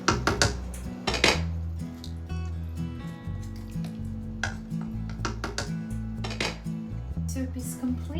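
A spoon scrapes and clanks steadily against a pot as a chilled summer soup with sour cream is stirred until the cream melts, giving loud, close metallic strokes in an irregular rhythm, with a faint low hum underneath.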